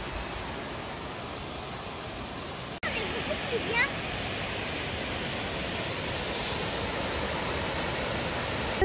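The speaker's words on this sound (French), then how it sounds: "aux chutes de la Chaudière avant d'arriver à l'hôtel" Chutes de la Chaudière waterfall roars as a dense, steady rush of falling water, loud and close with a brief cut partway through, and a voice faintly under the noise.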